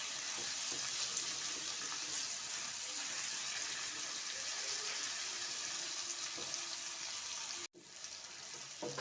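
Garlic and ginger sizzling in a pan with onion and tomato, a steady frying hiss with faint stirring scrapes, briefly cut off near the end before resuming, no talking.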